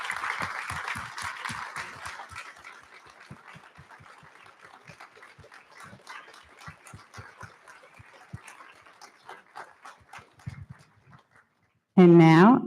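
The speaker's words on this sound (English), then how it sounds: "Can we please give a round of applause to Melanie, Ashlyn, and Stephanie?" Audience at a Holocaust commemoration clapping, a scattered patter that thins and fades over several seconds before falling silent, followed by a brief loud burst of sound at the end.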